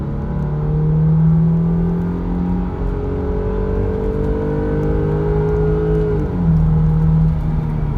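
A 2003 Audi A6 Quattro with a 3.0 V6 pulls hard through a 0 to 60 run, its engine drone climbing steadily in pitch with a brief dip at a gear shift before rising again, loud and close from inside the car.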